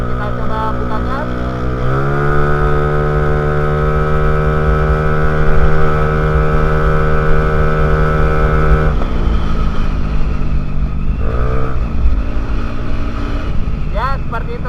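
A 2014 Vespa Primavera 3V scooter engine with a remapped ECU is revved up from idle, holds a high steady drone for several seconds, drops back, then blips again briefly, loud and close, with some talk underneath.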